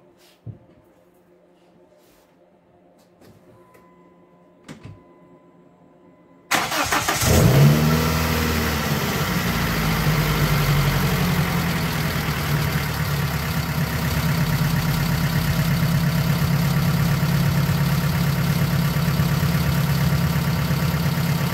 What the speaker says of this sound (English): So I'm going to try to start it up.